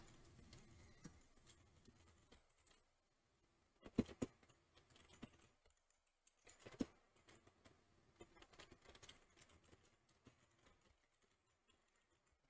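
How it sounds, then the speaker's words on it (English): Soft typing on a computer keyboard during an iRacing ARCA race at Kentucky, with scattered quiet key clicks in irregular bursts, a couple of sharper taps standing out, all faint and close. "Why am I typing a 0?"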